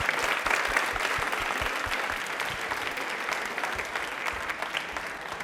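An audience at a Rajasthani television quiz show breaks into steady, dense applause, a continuous wash of many hands clapping at moderate loudness that carries on throughout with no voices over it.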